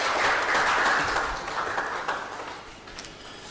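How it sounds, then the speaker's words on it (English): An audience at a Nigerian Youth Parliament event applauds its coordinator, with brief, fairly dense clapping that is strongest at the start and gradually tapers off. "Let's give him a round of applause."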